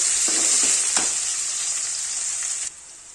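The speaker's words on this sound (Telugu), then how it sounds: "పోపు దినుసులు వేసి కొంచెము ఇవి ఫ్రై చేద్దామండి" Tempering spices frying in hot oil, a bright, loud crackling sizzle with a couple of stirring scrapes early on, cutting off sharply near the end.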